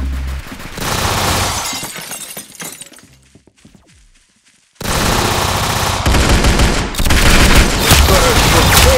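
Rapid automatic gunfire from the Roblox Arsenal video game, loud and dense, briefly dropping out before a sustained barrage resumes and carries through to the end.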